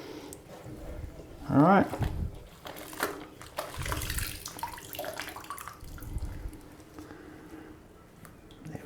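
Postage stamps and their paper hinges being swished by hand in a basin of soaking water, soft sloshing and trickling splashes, with someone talking over it.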